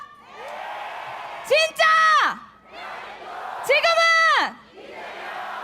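A crowd at Lee Jae-myung's presidential campaign rally in Sejong City, South Korea, roars two loud unison chants over a steady murmur of cheering, each burst rising sharply and then fading back into the crowd noise.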